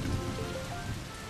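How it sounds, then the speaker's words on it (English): Steady rain patters on a surface in a cartoon playground, a soft continuous hiss of drops with no voices. "It's raining in the playground."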